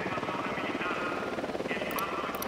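A helicopter flies in the Ghost Recon Wildlands video game, its rotor giving a steady, dense rumble throughout, with voices talking over it.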